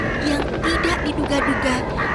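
A flock of birds in an animated story, with harsh, crow-like cawing calls repeating rapidly and mixing together under a narrator's voice.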